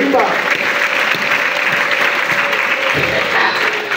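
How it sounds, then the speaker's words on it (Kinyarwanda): Church congregation applauding together, a dense, steady wash of clapping held at even loudness for about four seconds with no pauses. "Komera Imana amashyi n'ubunyumvise Imana ihimba."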